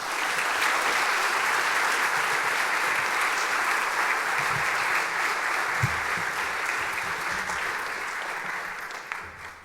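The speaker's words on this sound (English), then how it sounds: "Give him a warm applause" Sustained audience applause fills a conference hall at a Rust programming event, a dense, steady wash of many hands clapping that holds strong throughout before tapering slightly at the end.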